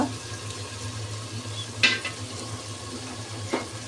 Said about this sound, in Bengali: তো আমি এখন মশলাটাকে ভালো করে কষিয়ে নিই।